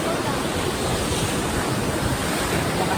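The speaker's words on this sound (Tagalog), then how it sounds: "Lakas din ng alon eh." Steady roar of strong lake waves breaking on a shore at Cyprus Lake, Tobermory, on a windy day, dense and continuous with wind noise over the microphone, no clear pauses.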